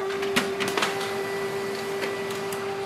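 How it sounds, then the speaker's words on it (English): An HP Color LaserJet Pro MFP M281fdw printer runs through a page, a steady mechanical whir with a constant tone and scattered clicks and feed clatters, close and alone. "The printer is working and it has printed a page."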